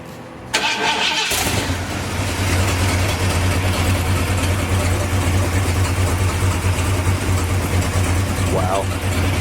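A Ford Bronco's 460 engine turns over and fires for its first start, then settles into a loud, steady idle with a deep rumble and a ticking header leak, with voices briefly in the background.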